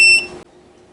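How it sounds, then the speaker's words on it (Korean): A short, bright electronic beep from an electric blanket running off an EcoFlow Delta 2 portable battery as it automatically powers off, sounding once up close before a near-silent hum remains. "삐 소리와 함께 전기장판 전원이 자동으로 꺼졌습니다."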